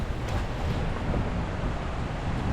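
Strong wind roars steadily on a small sailboat at sea during a violent storm, a dense, continuous rushing noise with a heavy low rumble and no voices.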